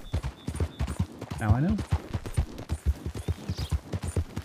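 A horse pulling a wagon in a Western open-world video game trots along with steady, rhythmic clip-clop hoofbeats, heard continuously under a man's brief speech and game sounds.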